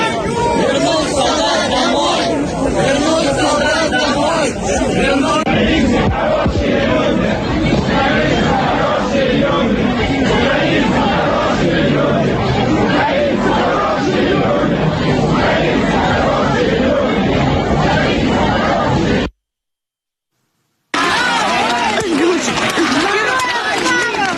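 A large outdoor crowd at Navalny's funeral rally, a dense loud roar of many voices shouting and chanting that runs on and on, with a brief dropout near the end before the din returns.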